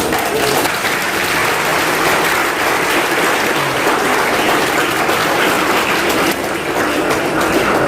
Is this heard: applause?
yes